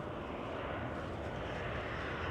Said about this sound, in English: There's a plane taking off and looking way off in the distance.